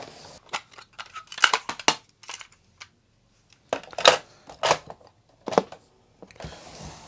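Clicks, clunks and rattles of a cassette tape being handled and pushed into a Panasonic RX-F2 boombox cassette deck, a series of close, sharp mechanical knocks with short quiet gaps between them.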